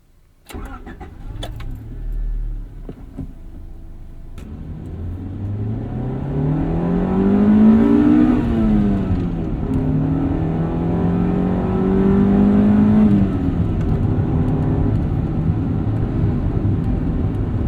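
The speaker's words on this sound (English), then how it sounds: "let's go ahead and get this thing out on the road and see how it drives" A 1995 Honda Civic Si EJ starts and pulls away on the road, engine revving up through the gears in rising sweeps with a shift dip between them, loud and close from inside the car.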